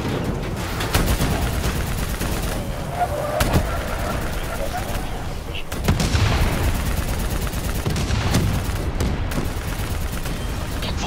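Continuous gunfire from Call of Duty: Black Ops III, with a turret firing at robots, fills the whole stretch with dense, loud bursts and booms, under players talking.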